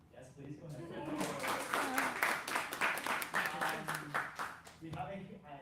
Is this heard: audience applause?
yes